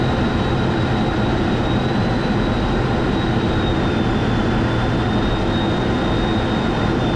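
An F-16 Fighting Falcon fighter jet landing with aerodynamic braking, a loud, steady roar of engine and rushing air with a faint high whine held through the whole stretch, no talk over it.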